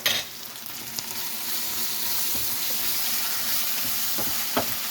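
Tuna sisig sautéing in a pan, a continuous hissing sizzle close by with a few sharper clinks and taps of a utensil against the pan, no talking.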